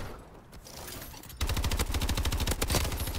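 Gunfire from a long-range headshot rings out in the Advanced Warfare video game. Quiet background comes first, then a loud run of rapid, crackling shots begins about halfway in and keeps going to the end.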